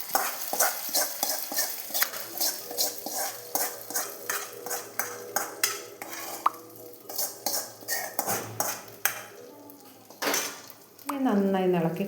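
Fried tempering added to a pot of erisseri curry, with rapid rhythmic clinks and scrapes of a spoon against the pot, sizzle underneath and a short stretch of voice near the end.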